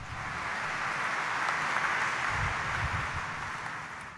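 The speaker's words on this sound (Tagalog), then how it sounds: "Ibigay natin ang pinakamalakas na palakpak." A church congregation at a Tuesday morning Mass in Quiapo Church applauds together, a dense, even wash of clapping sustained for a few seconds at moderate distance before easing slightly.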